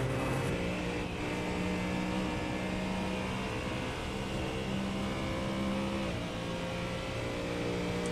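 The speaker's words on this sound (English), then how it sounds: "Listen to that V8 just climb up the rev range" A V8 prototype race car engine in a racing game at the Nürburgring holds a loud, steady drone that climbs up the rev range, with a continuous dense roar and no voices over it.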